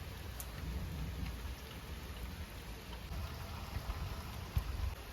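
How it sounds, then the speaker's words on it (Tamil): Rain falls steadily during a thunderstorm, a dense, even hiss of drops with occasional faint low thumps, and no voices. "இன்னைக்குன்னு பார்த்து இடி மழைலாம் பெஞ்சிட்டு இருக்கு."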